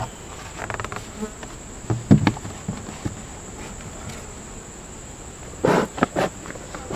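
Honeybees hum steadily around an open hive during a late July inspection, a close, continuous buzz broken by a few sharp knocks and clunks from handling the hive.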